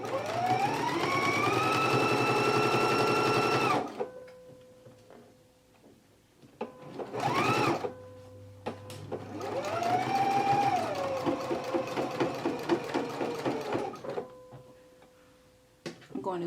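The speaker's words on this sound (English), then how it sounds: "So let's go ahead and stitch our pockets now" A sewing machine stitches skirt pockets, its motor whining up to speed, stopping, then running again in several separate bursts with quiet gaps between, close and fairly loud.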